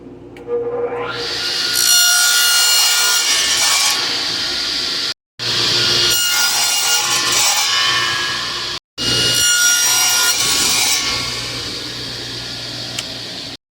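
A saw set against a stop at 4 5/8 inches cuts through a wooden board three times, each a loud, close, whining cut lasting a few seconds and separated by brief silences.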